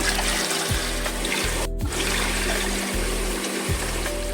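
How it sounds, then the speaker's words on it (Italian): Cold water poured from a container into a cooking pot over pieces of meat for broth, giving a steady, close, continuous splashing and gurgling stream throughout with no talk. "Mettiamo l'acqua"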